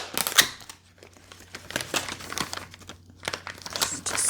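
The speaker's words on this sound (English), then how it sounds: "Oh goodness, this newspaper is falling apart over here." Old, brittle newspaper crumpled by hand while packing an order, giving loud close crinkling and rustling bursts with short pauses between handfuls.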